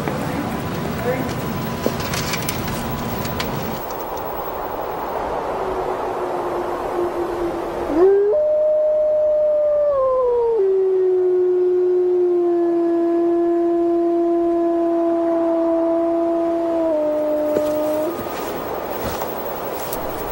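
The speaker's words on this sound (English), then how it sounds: "Concerned about the wolves" Wolves howling in a wild setting, long sustained rising and falling tones with a few voices overlapping, clear and fairly loud after an opening stretch of noisy background.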